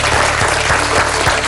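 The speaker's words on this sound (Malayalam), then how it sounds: "ഈ കയ്യടി നിങ്ങൾക്കുള്ളതാണ്" Audience applause fills a quiz show hall at the Deshabhimani Aksharamuttam Quiz Festival, season 6: a dense, steady wash of clapping hands, loud and close, with no voices above it.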